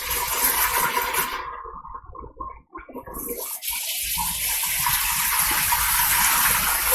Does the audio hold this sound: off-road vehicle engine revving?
no